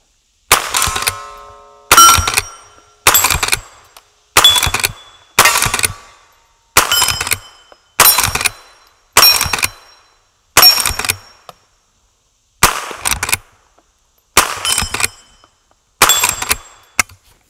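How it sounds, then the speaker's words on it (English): A Henry small game carbine fires about a dozen loud shots downrange in a steady rhythm roughly a second apart, each crack followed by a short decaying echo, with no talking. "So let's do a few shots downrange with it."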